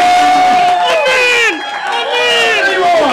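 A crowd at a costume contest roars with cheering and whoops for a contestant, loud and sustained, with excited voices shouting over one another.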